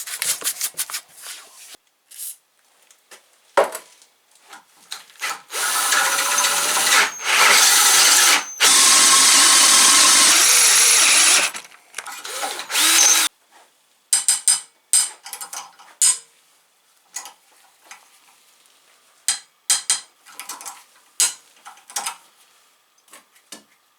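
Power drill re-drilling and re-tapping holes in an engine part for larger studs, with a loud sustained whine of several seconds amid scattered metallic clicks and handling clatter in a workshop.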